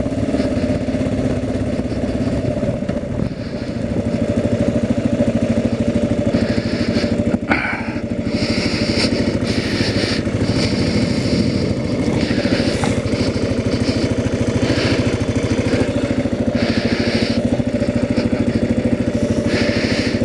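A Kawasaki KLR motorcycle engine drones steadily while riding, a loud continuous low rumble with mild wind rush on top and a brief bump partway through.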